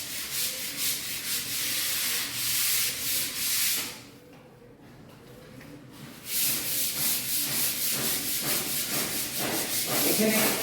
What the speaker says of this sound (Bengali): এখানে রয়েছে ফ্লোর পলিশিং মেশিন, যেটা দিয়ে পুরো বাড়িটি নিজে পলিশ কাজ চলছে